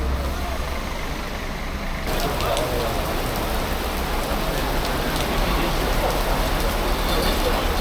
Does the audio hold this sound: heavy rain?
yes